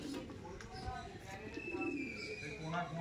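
Madrasi pigeons coo softly at a distance, with faint chirps and low background voices.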